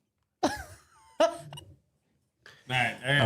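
A few abrupt, voiced hiccup-like bursts break out in quick succession during a live chat stream, and a voice then speaks over the last of them.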